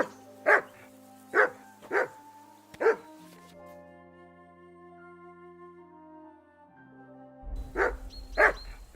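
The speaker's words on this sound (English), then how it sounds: "That barking was a pain in the ass." Dog barking in the video game Kingdom Come: Deliverance II: four sharp barks in a steady run, a lull filled with soft tonal background, then two more loud barks near the end.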